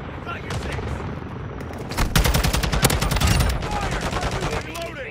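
Close air support gunship fire in Call of Duty MWII, loud rapid bursts of heavy automatic gunfire that build into a dense fusillade midway and then trail off into scattered shots, with brief radio-style voices around the barrage.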